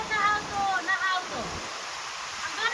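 Floodwater from a heavy downpour rushes steadily close by, a dense broadband wash with a few faint tonal traces riding over it.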